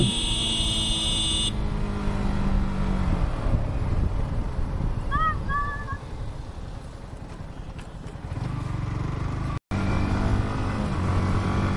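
A superbike ridden fast along a village road, engine drone with heavy wind rush across the microphone, a brief chirp of a horn or bird midway, steady and close, ending with a short cut.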